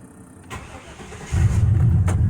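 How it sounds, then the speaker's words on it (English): An old Chevy OBS pickup truck's engine cranks briefly and fires up, settling into a loud, rumbling idle close by. "so let me start this old truck"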